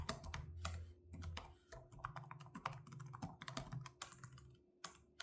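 Keys clatter in quick, uneven bursts on the built-in keyboard of a Samsung Galaxy Book 4 Ultra laptop, close-miked and fairly quiet, with short pauses between runs and no voices.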